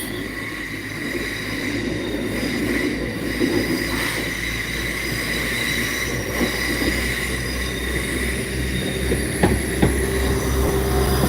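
A train rolls into Lanyon Place (Belfast Central) station steadily with rumbling wheels, a few sharp metallic squeals and clacks near the end, no talking.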